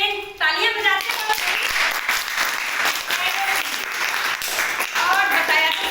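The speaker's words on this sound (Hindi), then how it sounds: "आप लोग जोरदार ताली।" A burst of loud applause from a crowd of children at a quiz game, sustained clapping, with a voice speaking briefly at the start and again near the end.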